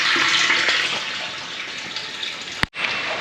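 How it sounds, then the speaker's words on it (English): A water pump pushes water out near a hole in a rural setting, a steady broad rush of flowing, splashing water with a brief clunk near the end, close and fairly loud. "we may have to shut that water pump off before the hole goes dry"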